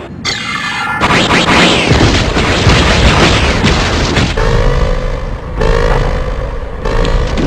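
Weapons firing and explosions rage in an animated space battle over Mars, a loud, continuous roar of booms, blasts and whooshing energy bursts with rising and falling zaps throughout.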